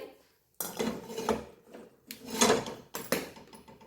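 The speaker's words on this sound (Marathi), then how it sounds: "आता ठेवलेले आहे एक कढाई" A kadai wok is set down on a gas stove with a few sharp metallic clunks and scrapes, three separate knocks close by and loud, with no talk.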